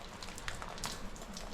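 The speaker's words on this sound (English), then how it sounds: "Started raining. Hasn't quit ever since my last video." Light sprinkling rain patters steadily on a farm, a soft, even wash of tiny drops with a few slightly sharper taps standing out against it, and no other sounds on top.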